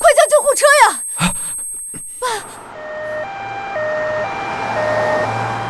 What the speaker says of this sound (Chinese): 快叫救护车呀！